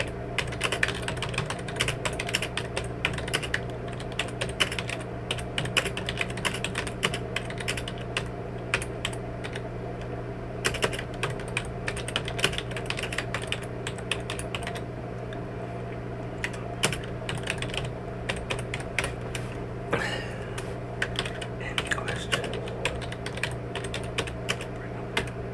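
Rapid typing on a computer keyboard, near and steady, with dense bursts of clicky keystrokes and short pauses, running on for over twenty seconds with no talking.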